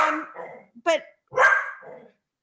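A pet dog barks in short, loud bursts: a couple of sharp yips and then a longer bark close to the microphone, with bits of a person's voice mixed in.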